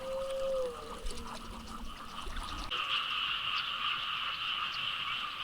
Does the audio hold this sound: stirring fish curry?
no